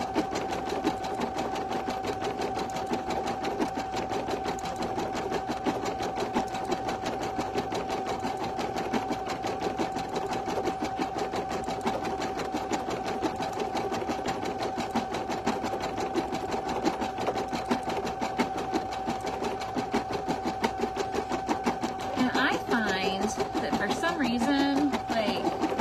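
An embroidery machine stitches an in-the-hoop stuffed toy with a rapid, steady mechanical whir and rhythmic needle tapping, constant and close, while someone talks near the end.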